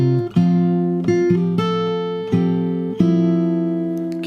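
Acoustic guitar picks out part of a song's verse fingerstyle, with a handful of plucked notes that ring on between attacks, close and solo with no voice.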